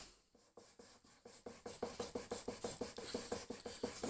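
Rusty secateurs blade is rubbed on a diamond sharpening stone in steady, repeated rasping strokes, close and fairly quiet, the rhythm quickening and growing slightly louder as it goes, with no speech.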